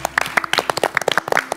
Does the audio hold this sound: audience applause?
yes